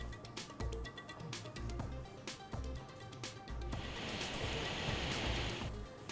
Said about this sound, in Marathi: गोदावरीची पूर परिस्थिती कायम।